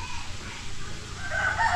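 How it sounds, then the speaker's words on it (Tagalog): A rooster crows once at a resort, rising toward the end of the clip over steady outdoor background noise at a moderate distance. "May mga manok din dito, mga alpas na."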